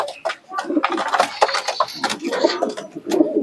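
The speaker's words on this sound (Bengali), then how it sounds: "টেরি কবুতর দুটো দেখাই" Teddy pigeons coo repeatedly at close range, their soft rolling calls overlapping with rustling and a little background noise.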